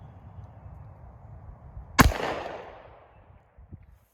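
A single gunshot fired in single action at a surplus body armor plate, one sharp close report followed by a brief decaying echo against quiet background.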